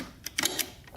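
Gear shifter on a Suzuki RM125 dirt bike clicking through the gears, a few quick faint mechanical clicks close by in under a second.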